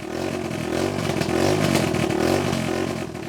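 A pushrod engine without a muffler runs and revs, a loud, steady, rough mechanical drone with a rhythmic clattering pulse, close up and alone.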